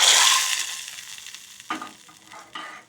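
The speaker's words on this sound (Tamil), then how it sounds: "இப்போ தாளிக்க போகிறேன் கீரையை." Spices tempering in hot oil for drumstick leaf kadaiyal, a loud crackling sizzle up close that fades within a second, followed by a few soft clinks and stirs.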